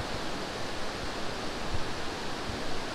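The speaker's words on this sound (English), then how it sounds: "you can hear the water roaring down the mountain" Water roars down the Sigmund Thun Klamm mountain gorge in Kaprun, Austria, heard from wooden walkway bridges as a steady, dense, full-band rushing wash with slight swells and no voices.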